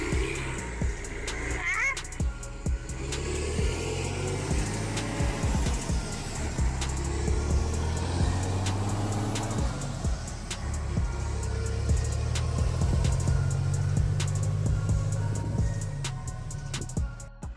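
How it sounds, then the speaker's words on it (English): Overloaded heavy truck engine laboring up a steep, muddy slope, a steady low rumble that swells and strains throughout with scattered clanks and knocks over the drone. "the overloaded truck relentlessly powers through the slope with its robust engine"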